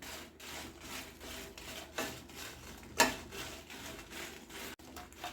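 Dried red chillies dry roasting in a pan for sambar powder, giving a steady rustling, crackling texture with soft scraping and one sharper pop midway, close and fairly quiet with no talking.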